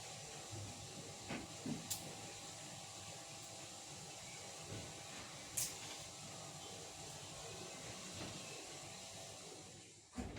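Shankarpali dough pieces frying in hot oil give a steady, moderately quiet broadband hiss, constant throughout with a few brief clicks and pops.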